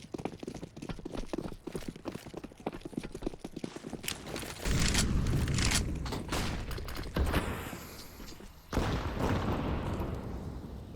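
Counter-Strike match on the Vertigo map: a rapid run of gunfire clatter gives way to two heavy grenade blasts a few seconds apart, each followed by a rumbling decay, with no talk.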